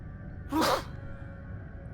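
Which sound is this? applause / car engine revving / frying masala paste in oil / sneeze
sneeze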